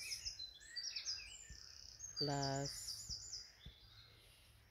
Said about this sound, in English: is the sound of different birds,